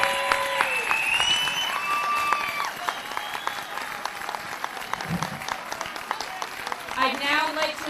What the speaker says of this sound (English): Can we have one final applause for our class of